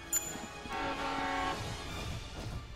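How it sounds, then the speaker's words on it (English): A train approaches in the video game Crossing Souls, a rising horn-like tone with rumbling carriage noise swelling for about a second, then fading into a rough mid-distance roll. "A train. It's a train."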